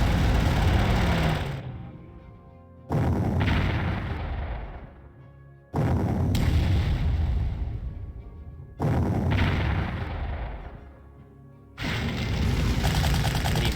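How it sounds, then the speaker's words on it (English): Artillery fire in the wartime strategy game Panzer Corps, five heavy booming blasts spaced about three seconds apart, each with a long decaying rumble, no talking. "A little bad luck from the artillery."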